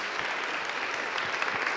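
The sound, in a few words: congregation applause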